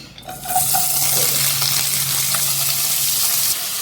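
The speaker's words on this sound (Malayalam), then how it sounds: "എണ്ണ ചൂടായിട്ടുണ്ട് നമ്മൾ ഇനി ഇതിലേക്ക് അരിഞ്ഞു വെച്ച സവാള പച്ചമുളക് മത്തങ്ങത്തോട്" Chopped onion, green chili and pumpkin peel hit hot oil for a Kerala-style stir-fry, giving a loud, steady sizzle close by that runs unbroken for several seconds with no talking.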